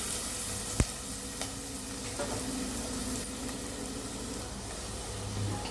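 Onions sauté gently in a pan for a chicken curry, a soft continuous hiss of frying with one sharp tap early on and a few faint stirring clicks.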